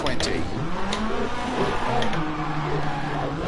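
Engine of an M1 race car in a racing video game, a steady revving drone with shifting pitch running throughout under continuous talk.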